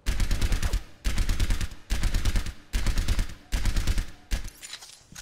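Rapid burst-fire weapon shots in the video game Overwatch, five loud bursts of several rounds each, separated by brief gaps, with no talk over them.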